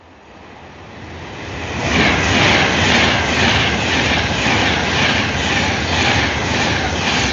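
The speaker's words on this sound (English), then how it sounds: "A good old Pendolino giving it what for?" A Pendolino train passes near Preston, its roar swelling from a distant rumble to a loud, sustained rushing hiss with rhythmic wheel beats as the carriages go by.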